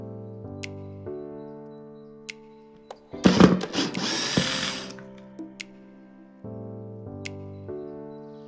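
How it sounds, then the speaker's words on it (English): A power drill drives screws while a FlexiSpot desk is assembled, giving one loud, whirring burst of about two seconds in the middle, set against steady background music. "I'm gonna attempt to drill all of these in"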